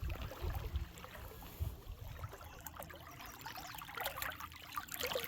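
Shallow Mississippi River water in Itasca State Park rushing around a wader's knees, a steady close trickling and splashing flow with a few deeper sloshes early on, no talk.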